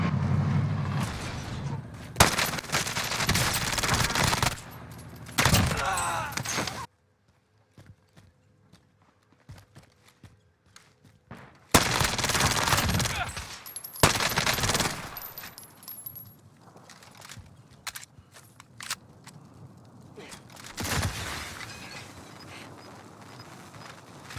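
MAC-10 submachine gun fire in Call of Duty Warzone (Cold War era) comes in loud rapid bursts separated by quieter gaps, mixed with game effects and some brief voice.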